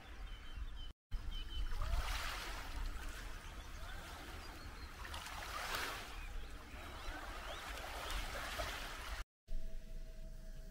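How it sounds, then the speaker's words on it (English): Gentle waves splashing on the shore of calm water where people canoe and paddleboard: a soft, continuous washing sound that swells and ebbs a few times, with no talk. "And you can hear the lovely waves splashing."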